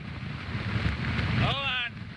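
Strong gusts of Hurricane Ivan roar steadily as broadband wind noise buffeting the microphone, loud and continuous, with a brief voice heard near the end.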